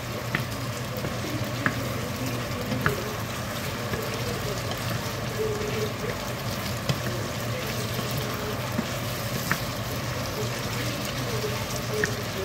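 Menudo with tomato sauce frying and being stirred in a pan, a steady oily sizzle running throughout with soft scraping strokes and occasional light clinks of the utensil.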